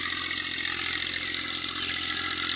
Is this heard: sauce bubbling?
no